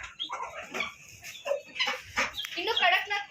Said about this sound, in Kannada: ನೋಡಿ ಇದು ಕಡಕ್ನಾಥ್ ಕೋಳಿ.